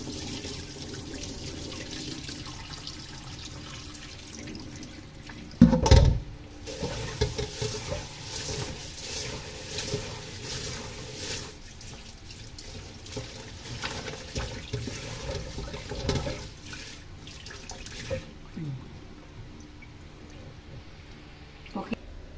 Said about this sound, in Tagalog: Kailangan natin hugasan yung ating malagkit.